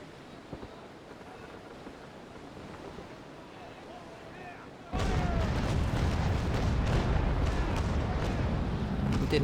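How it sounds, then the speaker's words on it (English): Ship cannons fire a shot in the naval sailing game Naval Action, with a sudden loud burst that turns into a sustained roaring rumble over a steady background of wind and sea. "Allowing my cannons to load, and we get a shot."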